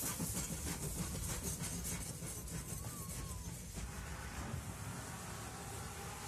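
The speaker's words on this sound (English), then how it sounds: "Just gotta wait for the train to pass." Train passing close by, a loud continuous rumble and clatter of rail cars with rhythmic wheel beats and a brief squeal, the roar holding steady for several seconds without any talk.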